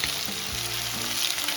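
Green chilli paste sizzling and frying in hot oil in a pan for a Bengali dried loitta fish curry with brinjal and beans, a steady close crackle with soft stirring thumps and no talk.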